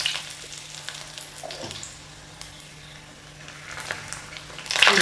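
Oil already used for frying ginger heats in a pan for an Onam ginger curry, with a teaspoon of mustard seeds added. It gives a steady sizzle and sharp crackles that get louder toward the end, with no talking.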